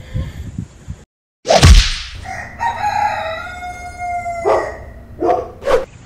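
Chickens clucking and squawking nearby, a few sharp calls breaking out over low background scratching and rustling, with a brief silent gap early on.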